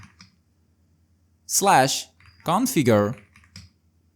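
Typing on a computer keyboard, a few light clicks at the start and end, largely overshadowed by a person talking in the middle.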